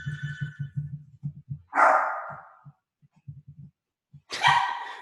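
A dog barks twice in sharp, close yaps, separated by a pause, alongside a steady series of soft low taps.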